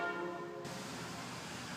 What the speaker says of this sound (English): that's what the bells are ringing for in the background